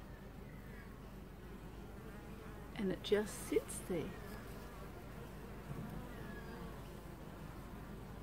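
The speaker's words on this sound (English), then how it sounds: "The bees are very busy." Soft steady buzzing of bees being fed sugar water, with a brief burst of louder buzzing near the middle and a quiet voice speaking over it.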